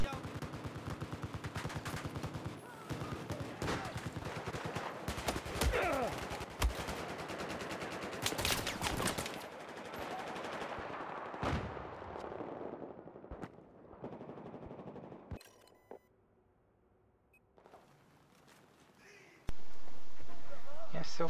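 Rapid bursts of automatic fire from an ACE 52 CQB rifle in the shooter Battlefield 4, loud and repeated over several seconds with scattered single shots, then quieter stretches and a sudden noisy burst near the end.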